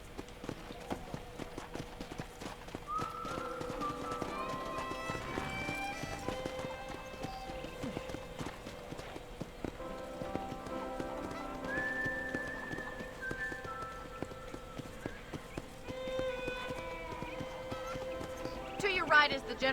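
Horse hooves clip-clopping at a walk in the western video game Red Dead Redemption, a steady rhythmic patter under a whinny, whistled music and game sounds throughout.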